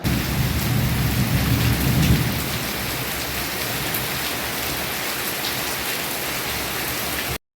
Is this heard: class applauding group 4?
no